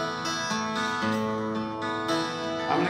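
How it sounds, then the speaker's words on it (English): A Martin 12-string acoustic guitar picked with banjo finger picks plays a few bright, ringing, shimmering notes and chords, close and moderately soft, each pluck sustaining into the next. "What I got here is a Martin 12 string."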